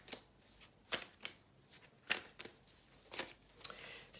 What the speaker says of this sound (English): So I'm just going to pull some Moonology cards to do sort of the overarching energy.